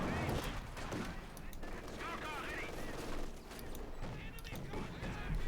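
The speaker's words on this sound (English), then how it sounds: "Machine gun there, blazing away." Machine gun fire in Company of Heroes 2, a German MG42 blazing away amid a World War II battle, sustained rattling bursts mixed with other gunfire and explosions under steady talk throughout.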